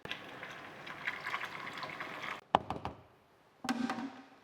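Fermenting molasses poured into a fermenting vessel, a faint continuous liquid gush that stops abruptly, followed by a few drips and splashes and a short final pour.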